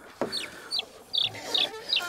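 Broody hens and chicks being moved to new nests cluck in a short run of five quick, high chirping calls, close and fairly quiet, with no talk.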